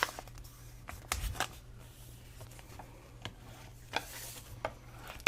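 Paper is folded along its innermost crease for a craft hot cocoa packet: quiet crinkles, soft rubs and a few sharper creasing taps, close and intermittent over faint room hum.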